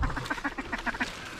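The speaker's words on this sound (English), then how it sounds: "There's so many birds." Mallard ducks quack during a duck hunt, a rapid run of nasal calls repeating in a quick rhythm at close to moderate distance, with no talking over them.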